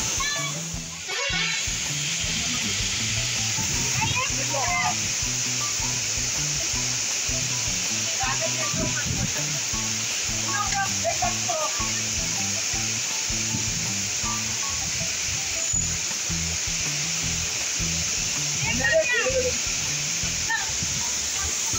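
The Amboli Falls waterfall pours with a constant, broad roaring hiss, while people talk intermittently over it throughout.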